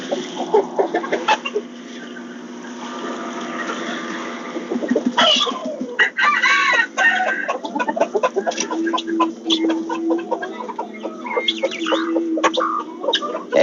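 Backyard chickens cluck and squawk in a busy, irregular chorus close by, with a rooster crowing partway through and a few steady calls near the end.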